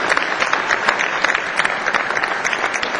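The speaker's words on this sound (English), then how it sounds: "let's give another round of applause to the traditional arts group from Beijing" Applause from a gala audience for a traditional arts group from Beijing, a brief burst of steady crowd clapping heard close and continuous.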